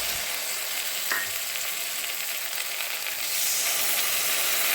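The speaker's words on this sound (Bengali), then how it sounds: "এখন এখানে পেঁয়াজ রসুন আর লঙ্কা বাটা," Onion, garlic and chili paste sizzling with dried fish in hot oil, a continuous close frying hiss that grows slightly louder near the end, with no talk.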